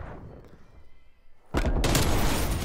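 Type 63 rifle fire in Black Ops Cold War erupts after a quiet stretch of rumbling game ambience, a loud dense burst of shots that continues to the end.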